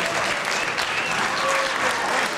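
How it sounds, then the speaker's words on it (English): A crowd at the Hermes Expo claps in dense, steady applause that fills the whole moment at an even level, close and lively, with no pause. "But let's give one last round of applause to the Hermes Expo and the Paul and his family for a wonderful"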